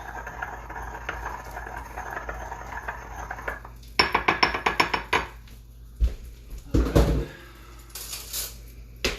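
A spoon stirs homemade vinaigrette in a dish, giving quick clustered clinks and scrapes of metal against the container, louder in bursts, with a faint background hum and no talking.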